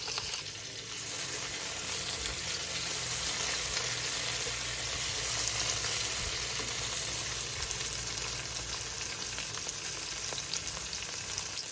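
Garlic sizzles in a hot pan alongside tomato during cooking of chicken feet adobo, a steady, crackling fry that holds close and even from start to finish with no voices over it.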